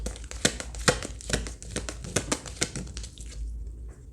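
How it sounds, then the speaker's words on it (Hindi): Tarot cards being shuffled by hand, a run of dry, crisp riffling and flicking bursts at an uneven rhythm, close and moderately loud, with no voice over it and a brief lull near the end. "चलो हम ये थोड़े और शफल कर लेते"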